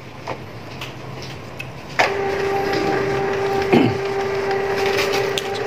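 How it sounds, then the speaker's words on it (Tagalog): A Canon IP2770 inkjet printer runs a nozzle check, with faint clicks giving way to a sudden steady mechanical whir and hum, a sharp clunk partway through, all heard close with no voices. "nozzle check na po yung printer natin"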